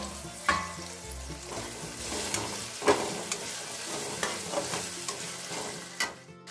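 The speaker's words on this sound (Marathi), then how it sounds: "आपण वाटाणे एक 2-3 मिनिट शिजू देऊ।" Green peas for a dry fenugreek (methi) dish cook in a pan, with a steady close sizzle under repeated scraping and clinking stirs throughout, with no talking.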